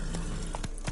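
Hooves of a trotting horse in The Witcher 3 game clip-clop in a quick, steady rhythm close by, with a brief snort among the steps.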